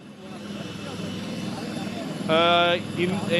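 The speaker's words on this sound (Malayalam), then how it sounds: "എയർഫോഴ്സിന്റെ ഹെലികോപ്റ്ററാണ് ഇപ്പോൾ ഇവിടെ ഇറക്കിയിട്ടുള്ളത്." An Air Force helicopter landing at Chooralmala in the mud-choked Mundakkai area gives a steady, loud rotor and engine drone throughout, with a brief whistling tone rising over it near the end and faint voices underneath.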